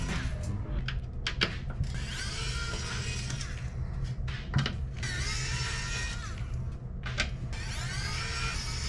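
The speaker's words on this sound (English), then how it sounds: "We're gonna switch back to a Torx T10, and we're gonna remove these T10 screws." Torx T10 screws being backed out of an Xbox 360 Slim with a screwdriver: a steady run of small scratchy, whirring turns broken by brief clicks and taps, fairly close and alone over a low background hum.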